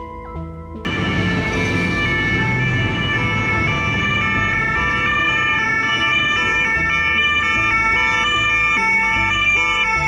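A loud ambulance siren wails continuously, close and steady, its rising and falling tones layered over low traffic rumble.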